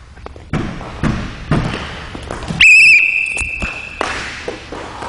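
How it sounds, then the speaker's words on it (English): A single sharp whistle blast cuts through, held for about a second, signalling children to stop at school, amid thuds and footsteps of people moving around. "When I blow the whistle, what do you do?"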